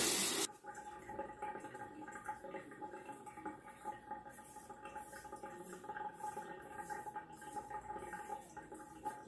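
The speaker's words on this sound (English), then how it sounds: "Okay, rinse the razor." Tap water runs into a slow-draining sink while a razor is rinsed, a steady faint splashing gush that lasts throughout at low level.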